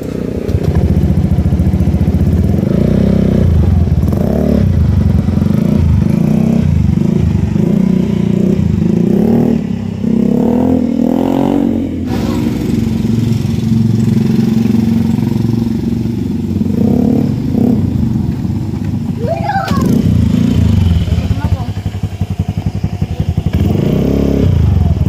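A Honda Beat scooter fitted with a HUN Power exhaust pipe idles and revs up close, its loud throaty engine rising and falling in repeated throttle blips with some rattling clatter.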